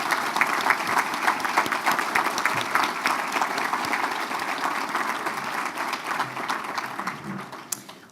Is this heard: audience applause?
yes